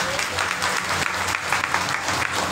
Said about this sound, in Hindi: ताली बजाओ तुम लोग।